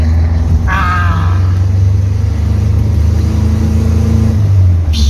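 A truck engine labours up a very steep hill, a loud, low, steady rumble with a brief higher whine near the start and little change in pitch.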